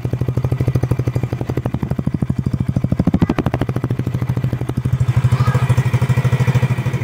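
A 2025 Rusi Trek 125, a 125cc motorcycle, idles with a steady, even putter. The rapid, regular engine pulses run close and fairly loud, picking up slightly toward the end.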